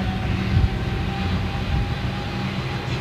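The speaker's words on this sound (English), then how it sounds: "Here she comes, 747." A Boeing 747 at London Gatwick, a loud steady engine roar with low rumble and a faint whining tone, sustained and fairly close throughout.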